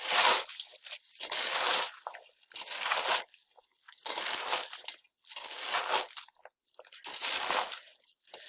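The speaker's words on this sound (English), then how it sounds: "You want to stir this until all the cornflakes are lightly coated with" Spatula stirring cornflakes coated in peanut butter sauce, making about eight close, sticky crunching strokes in a steady rhythm with short quiet gaps between them and no talk.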